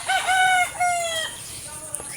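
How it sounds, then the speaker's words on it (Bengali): A rooster crows loudly nearby in a rural setting, with a series of drawn-out harmonic calls alongside other bird sounds. "পাখির কিচিরমিচির শব্দ"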